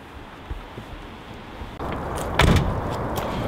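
A mechanical click and thump of a 1993 Volkswagen Polo G40's boot unlatching, followed by a louder clunk as it swings open amid outdoor wind noise.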